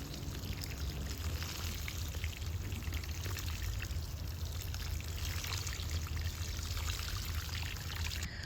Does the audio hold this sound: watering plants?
yes